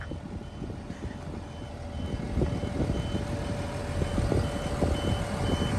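A truck's alarm beeping in a steady, rapid repeating pattern over a continuous low engine rumble outdoors, loud and close with no talk.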